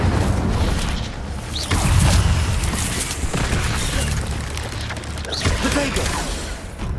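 Fire spells cast in Hogwarts Legacy come as dense whooshing bursts and rumbling booms, loud and continuous, over a busy game soundscape with no clear speech.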